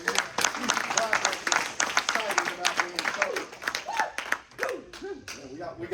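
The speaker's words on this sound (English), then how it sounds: "you can clap if you want" Scattered clapping from an audience at a recovery talk, sharp claps breaking out over a voice that keeps talking throughout, with gaps where speech dominates.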